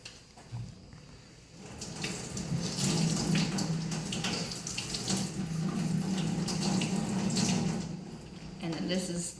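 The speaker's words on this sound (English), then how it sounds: "And then you rinse it with water." Running tap water splashes into a sink as a zinc plate is rinsed, steady and close, starting after a brief quiet moment and stopping near the end.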